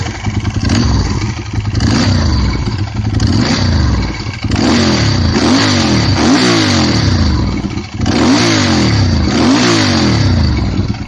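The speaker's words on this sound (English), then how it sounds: "With its carbureted sound, dry clutch, and pure Italian looks, this is one bike you won't want to miss." A carbureted Ducati motorcycle engine with a dry clutch revs hard in repeated bursts, loud and close, with brief dips between throttle blips.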